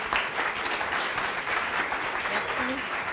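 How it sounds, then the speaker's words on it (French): Audience applauding at a live pitch event, a steady wash of clapping throughout with some voices mixed in. "On peut vous applaudir."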